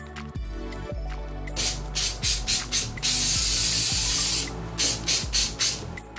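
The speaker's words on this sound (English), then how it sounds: "I'm just spraying in a little adhesive and then laying that down." Spray adhesive hisses from an aerosol can onto a wig in short repeated bursts, then one long spray and a few more quick puffs, loud and close.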